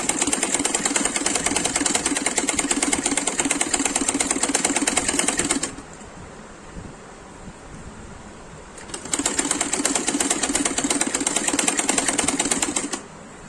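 A sewing machine stitches cloth in a fast, even whir, running for several seconds, pausing briefly, then starting again, close and loud with nothing else heard.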